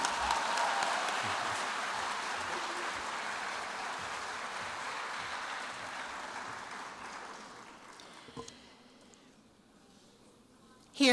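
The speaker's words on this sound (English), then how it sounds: "please give yourselves a round of applause" An audience at an award night applauds in a sustained, even wash of clapping that slowly thins and dies away toward the end, leaving near silence.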